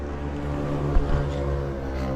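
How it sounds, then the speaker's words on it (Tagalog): A warmed-up vehicle engine idles steadily nearby, a low continuous rumble with harmonic drone and a slight bump in level midway, with no talking. "napainit ko na rin yung makina ni Mia"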